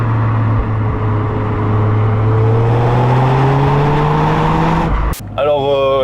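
A Toyota Yaris GR engine revs steadily higher through the gears, loud and close from inside the car, then drops off abruptly before a brief whine.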